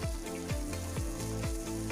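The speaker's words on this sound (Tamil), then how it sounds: "அடுத்து நம்ம நறுக்கி வைத்திருந்த வெங்காயத்தை போட்டு நல்லா வதக்குங்க." Sliced onions sizzle in hot oil with a constant loud crackle, while a regular stirring scrape repeats about twice a second.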